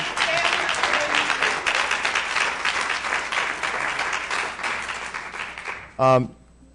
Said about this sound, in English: So we applaud Representative Olumba.